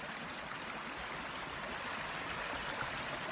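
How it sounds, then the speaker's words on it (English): Water from a brook babbling and rushing over rocks on a spring day, a steady close wash of flowing stream noise with no break or voices. "the sound of water, just babbling over the brook and over the rocks"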